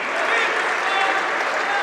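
Steady applause from a crowd at a college wrestling tournament, even and continuous throughout, with voices murmuring in the background.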